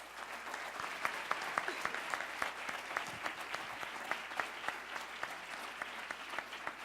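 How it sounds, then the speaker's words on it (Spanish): Steady applause from an audience at a business and university conference talk, many hands clapping continuously with scattered louder claps, moderately distant and without talk. "Rogándoles un aplauso, por favor"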